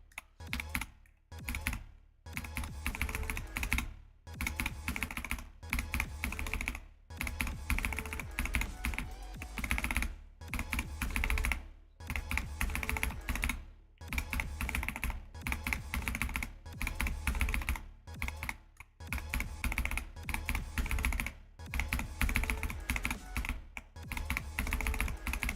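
Fast, continuous typing on a Bluetooth computer keyboard clatters close and steady for about 25 seconds, broken by brief pauses between bursts of keystrokes, with no one talking.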